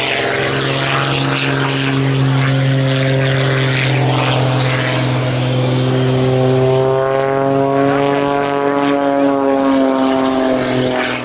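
A propeller aerobatic plane flying slow manoeuvres at an air show drones loudly and steadily, its engine pitch rising and shifting partway through as it manoeuvres, with no voices.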